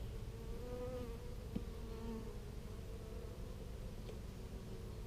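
Honeybees buzzing in a hive during an inspection, a steady close hum with a few individual bees droning past, continuous and moderately loud.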